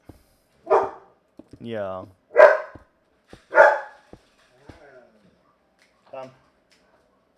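A small pup barks a few times in short, sharp yips with a whiny stretched yelp between them, spaced out in a quiet room with a person speaking briefly.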